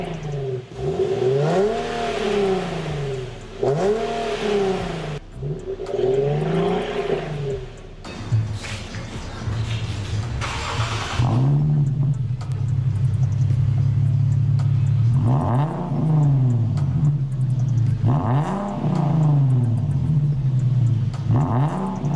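An Infiniti G37 with a new exhaust revs repeatedly, each throttle blip rising and falling in a deep rumbling sweep, then settles into a sustained drone before more rhythmic revs, loud and close.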